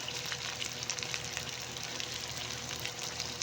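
Two tomatoes sizzle in a pan of hot oil while a spicy fish curry cooks, giving a steady, moderately faint frying hiss with small crackles and pops.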